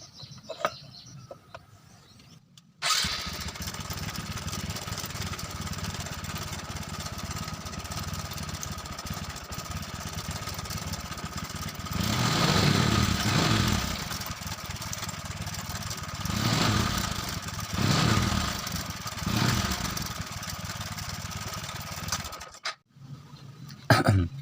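Honda Supra 125 motorcycle engine idling steadily after being started, a continuous close mechanical hum that runs for about twenty seconds with a few louder surges before cutting off.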